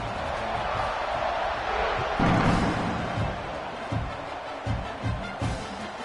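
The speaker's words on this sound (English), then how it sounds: "this crowd is buzzing after that last score" Stadium crowd at a Texas A&M vs Oklahoma college football game, a broad steady buzz of cheering and noise with a commentator talking over it.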